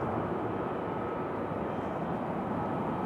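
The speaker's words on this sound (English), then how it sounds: "It's our Delta 757." Delta Boeing 757 airliner taxiing uphill at Raleigh-Durham airport, a continuous, even engine rumble and hiss from some distance, steady from start to finish with no voices.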